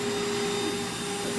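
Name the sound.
Rainbow vacuum cleaner cleaning its tool and hose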